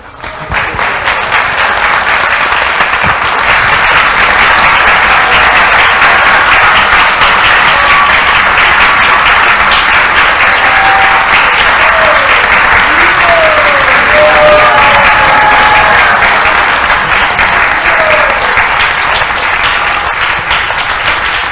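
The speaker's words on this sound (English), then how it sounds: "it appears that the ladies are clapping more enthusiastically than the men." A large audience applauds steadily and loudly at the close of a Mother's Day Sunday Feast talk by Radhanath Swami. The clapping is sustained and dense for about twenty seconds without pause.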